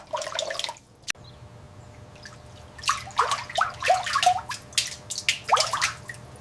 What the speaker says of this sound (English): Rinsing them in fresh, cold water.